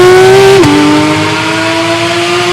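A Porsche 911 of the 997 generation revs, its engine tone climbing and then dropping sharply before settling into a steady, loud hum, close by with no talking.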